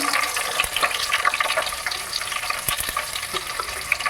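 Whole spices, including fennel, bay leaf and cinnamon, fry in oil for chicken biryani, making a loud, crackling sizzle with dense spitting pops that ease slightly midway.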